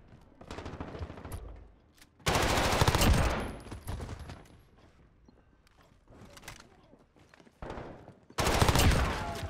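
Gunfire in a first-person shooter video game: repeated loud bursts of rapid automatic fire, separated by quieter stretches, with players talking faintly over it.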